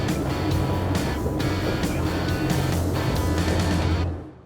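A SACS Strider 10 motorboat speeds across the water, its engine roaring loudly and continuously with rushing spray and hull slap in periodic bursts, fading out at the end.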